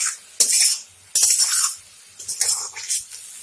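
A utensil stirs turmeric, chili and cumin powder into eggplant and potato in a cooking pan, giving three separate bursts of close, bright scraping and clinking with short quiet gaps between them.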